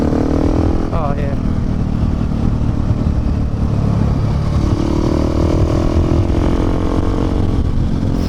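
A KTM 690 or Honda Africa Twin motorcycle cruising on an open road, with a steady, loud engine drone and wind rush running throughout, a voice talking over it.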